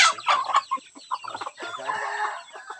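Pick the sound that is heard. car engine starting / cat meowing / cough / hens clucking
hens clucking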